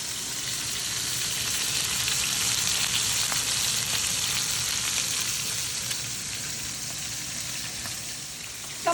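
Oxtail sizzles steadily in a frying pan alongside browned onions for a stew, a bright continuous crackle and spatter at close range with no talking.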